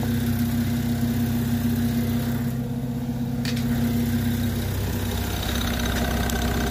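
A GEC motor in a washing machine spins at 1000 RPM, a steady, loud droning whine with a constant low hum that shifts slightly in pitch partway through, with no talking.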